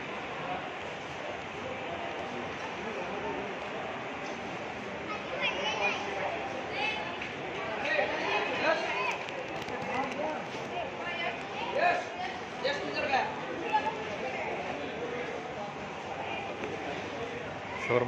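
Busy ambience on platform number 1 at Madgaon (Margao) station on the Konkan Railway, with steady crowd chatter, footsteps and scattered clatter holding at an even level throughout, voices mingling in the background.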